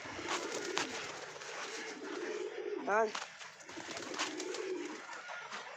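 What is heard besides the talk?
pigeons cooing in loft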